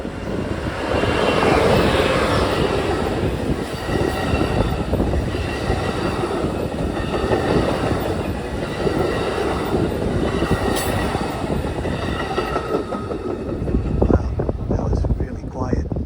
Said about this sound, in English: Off in the distance, you can see the train coming.